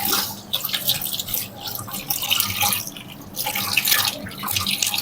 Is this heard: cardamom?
no